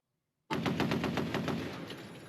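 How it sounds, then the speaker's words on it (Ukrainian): A sudden burst of rapid machine-gun fire from a robot-operated gun, about a dozen evenly spaced loud shots in quick succession after a brief silence. "Прицільний вогонь із кулемета, але стріляє не людина, а робот."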